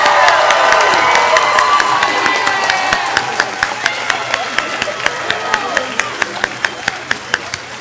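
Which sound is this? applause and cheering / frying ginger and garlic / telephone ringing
applause and cheering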